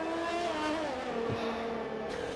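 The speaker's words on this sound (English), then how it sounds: "As Bergersord comes round the second to last corner in that Ferrari" Ferrari F2 race car engine in a racing video game, a loud, steady high-pitched engine whine holding near constant revs with a slight pitch dip, heard alone.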